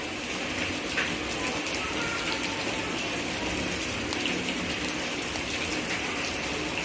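Water runs through a small classroom river model dammed up by bits of trash, a steady, hissing rush that holds at an even level throughout with no voices.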